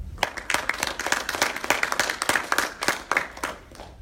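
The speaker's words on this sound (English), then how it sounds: "That wasn't fake claps, that sounded sincere." Audience in a college lecture hall applauding a guest speaker, steady brisk clapping from many hands, fairly close and lively for about four seconds with no talking over it.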